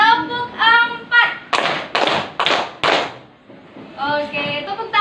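Children in a classroom clap out a short rhythmic pattern of four distinct sharp claps in a row, sandwiched between spoken instructions from a teacher.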